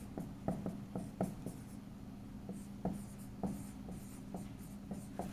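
Faint squeaky scratching of a black marker writing on a board during a physics lecture, short strokes in an irregular rhythm over a low hum, with no talk.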